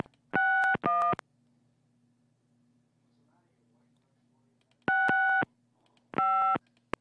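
Telephone call tones from the Gabriel Knight: Sins of the Father adventure game: two short bursts of a harmonic ringing or busy tone, a quiet pause with a faint hum, then two more bursts, loud and near.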